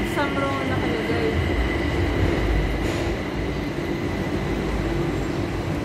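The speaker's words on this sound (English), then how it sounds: "Oh, the train is here." A train pulls into a station platform in Thailand, a steady loud rumble of wheels and machinery with brakes hissing and faint squeals, continuing throughout.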